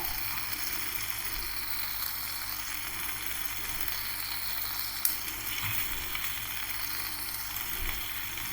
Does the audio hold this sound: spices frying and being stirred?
yes